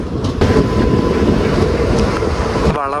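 A passenger train rumbling across a river bridge in Kerala, a steady loud roar with rolling metallic clatter throughout, heard close from on board.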